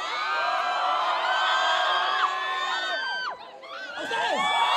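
A loud crowd at a Mayo Gallo 2019 event shouts, whistles and cheers in a sustained roar as part of a contest, dipping briefly near the end before swelling again.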